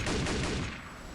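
An M4 weapon fires from an OH-58D Kiowa helicopter in the DCS World flight simulator, one loud, booming cannon-like burst that rolls and fades over about a second.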